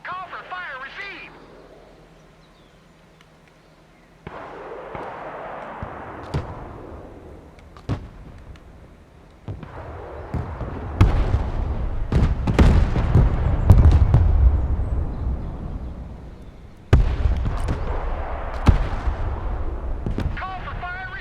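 Artillery rounds from a fire mission land in the military strategy game Broken Arrow, heavy booming impacts arriving in clusters that build to a rumbling barrage, with radio-style voices heard between them.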